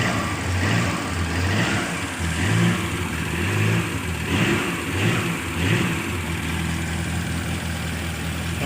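A car engine that had trouble starting and ran rough now runs steadily after a clean start, loud and close, with a fairly even idle and gentle swells of revving throughout, no talking.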